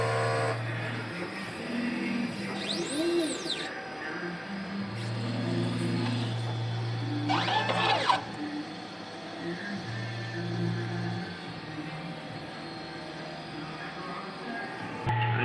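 A printer running a nozzle check after a head clean: close mechanical whirring and stepping motor sweeps, with repeated humming passes, rising tones and a brief rattle, running steadily throughout.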